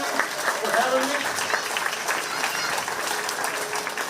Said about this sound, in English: all these kids deserve a huge round of applause